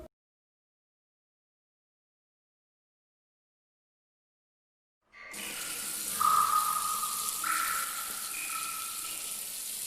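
In an animated school-horror scene, a tap in a cinema toilet starts running after five seconds of silence, a steady rushing gush of water that stays loud and close to the end with no voices.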